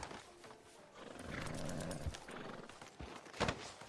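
A horse in the video game Red Dead Redemption 2, a brief soft snort and whinny with a few hoof thuds, fairly quiet.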